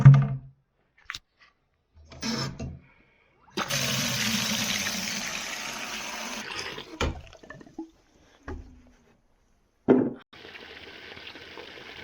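Water drawn from an outdoor hydrant into buckets during a windstorm power outage, a rushing gush that runs for a few seconds then stops, followed by short splashes and sloshing, near and fairly loud.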